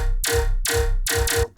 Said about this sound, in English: Chroma pitch shifts samples and it has this sort of metallic-y sound about it